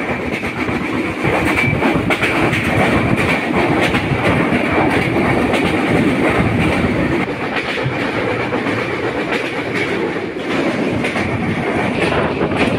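Madhumati Express LHB coach train running non-stop at speed, a steady loud rolling roar with rhythmic clickety-clack of wheels over rail joints throughout, no voices.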